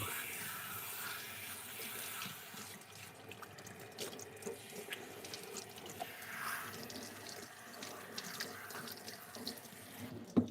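Tap water runs steadily into a salon shampoo sink while a client's hair is rinsed, a soft continuous splash with faint drips and small clatters near the end.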